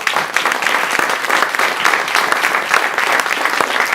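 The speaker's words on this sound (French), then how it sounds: "Alors on s'applaudit juste pour ça," Dense, lively applause from an audience at an opening ceremony, many hands clapping steadily and close at an even loudness throughout.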